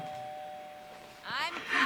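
A doorbell rings inside the video game Schoolboy Runaway, a single sustained chime tone held briefly before fading, followed by a voice talking over it.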